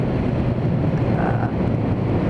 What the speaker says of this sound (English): Get a lot of wind blast with a naked bike